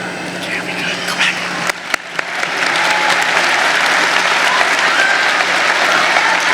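A high school graduation audience breaks into applause, scattered claps building after about two seconds into a dense, sustained ovation from a large crowd that carries on to the end.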